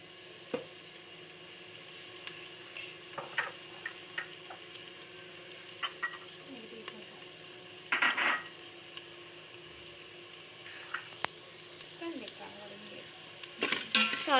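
Food frying quietly in a pan after salt is added, with a soft ongoing sizzle punctuated by occasional stirring scrapes and spoon taps, a few louder bursts of mixing near the end, no voices.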